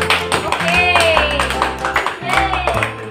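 A class of grade one children claps their hands together in a physical education lesson, a quick burst of clapping mixed with voices and chatter.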